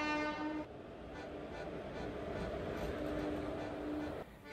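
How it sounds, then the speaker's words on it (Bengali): The Aranyak Superfast Express pulls into platform 2 at Santragachi station with a loud, sustained rumble of rolling wagons and a drawn-out horn sounding at the start and again near the end. "ট্রেন ঢুকছেও, আওয়াজ শোনা যাচ্ছে।"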